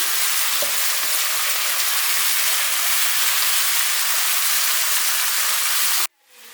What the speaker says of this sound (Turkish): bir tane küçük kırmızı biber ve bir tane yeşil biber ekliyorum. Mantarlarla beraber soteliyorum.